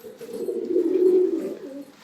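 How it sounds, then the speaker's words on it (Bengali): A paired pigeon in a home loft gives one close, clear, rolling coo that swells and fades, with no voices. "আমার কাছে এই মুহূর্তে পেয়ারিং সমেত পায়রা আছে"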